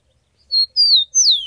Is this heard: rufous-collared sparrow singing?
yes